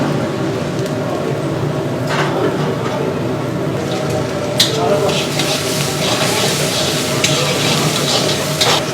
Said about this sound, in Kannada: ಇದಕ್ಕೆ ನಾವು ಶುಂಠಿ ಬೆಳ್ಳುಳ್ಳಿ ಪೇಸ್ಟನ್ನು ಈಗ ಹಾಕೊಳ್ಳೋಣ.